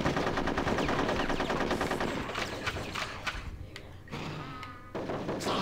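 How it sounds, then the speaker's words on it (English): Rapid machine-gun fire and repeated gunshots from a World War-style squirrel battle in Conker's Bad Fur Day, loud and nearly continuous, thinning into scattered bursts toward the end. "So I'm getting shot a lot."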